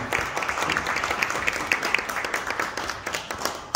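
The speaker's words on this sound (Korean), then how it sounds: "큰 박수로 모시면 좋겠습니다" An audience at a concert event claps continuously, a dense patter of many hands at moderate volume without a break.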